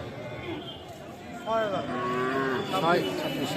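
Cattle at a busy livestock market moo in drawn-out, loud calls, several overlapping in the second half over a murmur of crowd chatter and people talking.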